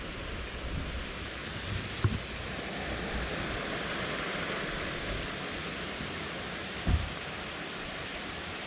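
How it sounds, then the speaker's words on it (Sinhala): A roadside waterfall in the misty hills of Riverston gives off a steady, broad, even rush of falling water that persists at moderate level, with a couple of faint knocks and no talk. "යන පාරවල් වල දිය ඇලි නේ."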